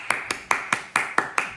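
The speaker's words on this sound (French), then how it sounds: "A round of applause." Seven sharp, evenly spaced claps ring out over about a second and a half, close and fairly loud, each with a short decaying tail. No voice is heard over them.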